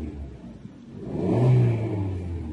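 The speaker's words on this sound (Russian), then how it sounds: "газану сейчас" A Datsun on-DO car engine revs up to nearly 4000 rpm, heard from inside the cabin as a steady mid-pitched rumble that swells and peaks midway through, then eases slightly while holding a raised drone.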